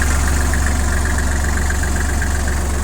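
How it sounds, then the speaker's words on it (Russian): A steady, even three-cylinder engine idle of a Kubota GL-21 tractor with a front loader, a low mechanical rumble, continuous and close, running smoothly without changes in pace. "Мотор у нас трехцилиндровый."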